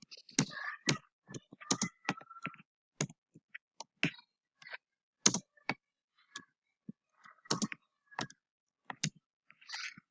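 HTML code is typed on a computer keyboard, with close, crisp key clicks in irregular quick runs and short pauses between them.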